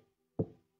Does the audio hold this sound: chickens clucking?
no